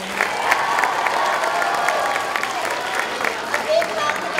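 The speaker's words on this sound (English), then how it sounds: "A big round of applause for the Valier class and all the fifth graders." Audience applause at a fifth grade completion ceremony, a steady wash of many hands clapping, fairly loud and sustained throughout, with faint voices mixed in.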